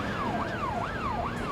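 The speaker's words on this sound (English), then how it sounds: "The ambulance will be here soon." A wailing ambulance siren rises and falls in a steady repeating sweep, loud and continuous for the whole moment, with a low road rumble beneath it and no voices.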